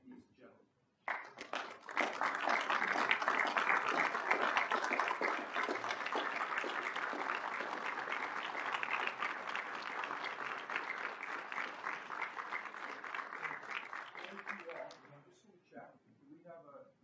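Council members rise and give frontline service people a sustained round of applause at a council meeting, dense clapping that starts abruptly, holds steady for about thirteen seconds, then fades out.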